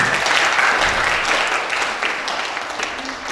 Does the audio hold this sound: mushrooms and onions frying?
no